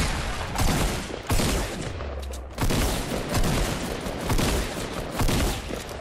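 Rapid bursts of automatic gunfire from the player's weapon in a video game, loud and close, firing in several long sustained volleys separated by brief gaps.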